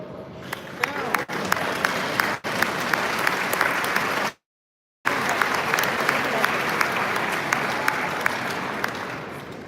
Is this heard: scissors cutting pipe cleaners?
no